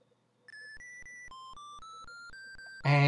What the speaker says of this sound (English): the music is sort of wavering and a bit not great. And it turns out that that's down to DOSBox's emulation of the PC speaker.